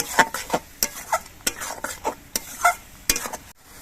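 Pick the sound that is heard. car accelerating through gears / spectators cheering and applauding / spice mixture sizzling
spice mixture sizzling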